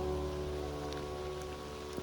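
Steady rain pattering through a mountain forest on a trek toward Tshoka, a dense continuous hiss close by with a few louder drips, no voices.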